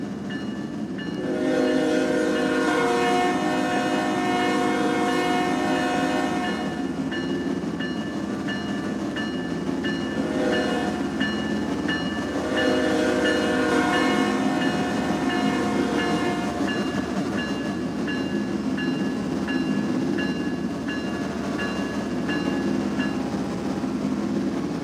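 A CSX freight train with GE ES44AH diesel locomotives rumbles past steadily, engines droning loud and near, with a horn sounding and rail clatter underneath.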